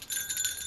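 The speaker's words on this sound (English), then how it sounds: "I love the bells and all of these things" Small bells on a Christmas sleigh decoration give a brief, faint, high jingle that shimmers for under a second, heard alone.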